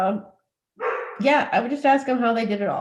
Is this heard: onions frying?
no